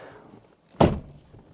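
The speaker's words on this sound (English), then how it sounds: "this is how you pull the door down" A DeLorean's gullwing door, pulled down by its strap, shuts with a single solid thunk after a brief quiet moment, close and clear.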